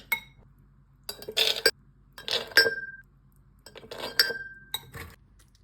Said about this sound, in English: Then I'm going to put mung dal in the glass jar.